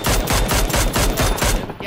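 Sustained automatic gunfire from a PUBG match rattles loudly and close, with evenly spaced shots for nearly two seconds before cutting off.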